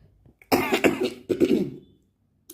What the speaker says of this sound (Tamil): ரொம்ப இருமலாக இருக்குது.